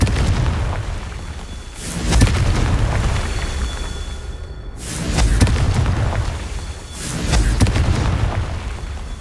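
Confringo fire spell blasts in Hogwarts Legacy: three heavy booming explosions with rumbling tails, spaced a few seconds apart, loud and close, with no talking.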